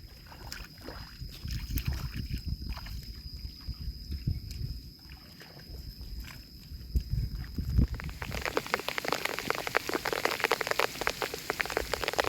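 Rain falls steadily at Phu Pha Ta No, a soft patter that swells into a louder, denser downpour on a hard surface partway through, with no talking.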